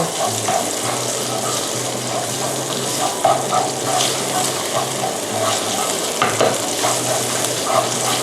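Thai curry paste stir-fried with a metal spatula for a spicy crispy-catfish dish, giving a steady loud sizzle under continuous scraping and stirring, with faint watery hissing throughout.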